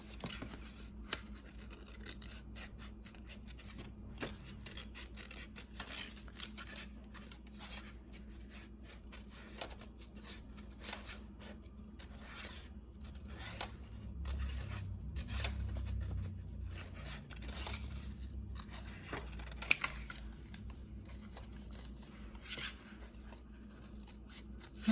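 Scissors snipping through paper while cutting out a Polish folk art tree, a long run of quiet, close, irregular clipping and rustling with occasional sharper snips, no talking.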